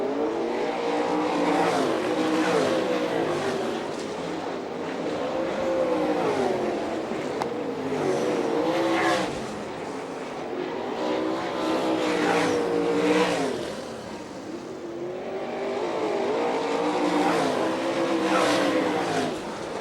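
Sprint race cars from the All Star Circuit of Champions lapping the track at Fremont, Ohio, engines swelling and fading in repeated passes as they roar through the turns, loud and close with tire noise between waves.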